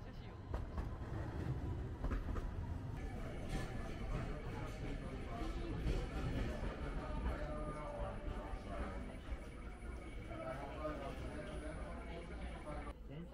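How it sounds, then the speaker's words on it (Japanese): A Hiroshima streetcar rolls along the rails with a steady low rumble and rattling, heard from inside, while people talk and a Japanese announcement plays over it. "電車が動きます、"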